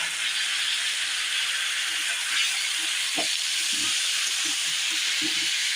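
Meat and potatoes dropped into a hot pan with browned onions give off a steady, loud sizzling hiss, with a few faint clatters and soft taps from the pan.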